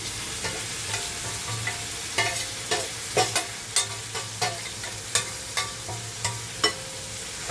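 Fresh prawns frying in a pan as vegetables are added and stirred in, with a steady sizzle under repeated scraping stirs that fall into a regular rhythm from the middle onward.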